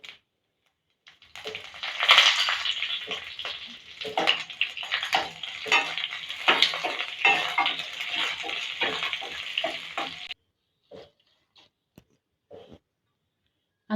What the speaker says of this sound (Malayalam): ഇതിലേക്ക് 1 ടീസ്പൂൺ കടുക് ഇട്ട് കൊടുക്കാം. 3 വറ്റൽമുളക് ഇട്ട് കൊടുക്കാം.